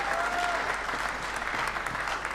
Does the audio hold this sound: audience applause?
yes